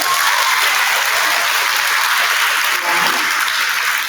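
Sustained, dense applause from an audience at a school awards day for fourth graders, loud and even for the whole stretch with no voices breaking through.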